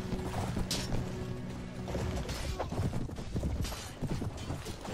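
Horse hooves clip-clopping across a battlefield in a Mount & Blade Warband mod, a busy rapid patter of many hoofbeats mixed with clashing combat noise throughout.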